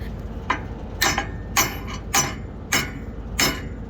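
A hammer strikes a jam nut on a worn Krause disc in six sharp metallic taps, spaced roughly half a second apart, close and fairly loud over a low background hum.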